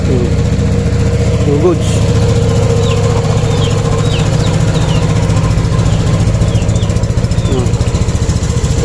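A Griffin 180i motorcycle engine idles steadily and close by in a continuous low hum, while someone talks over it.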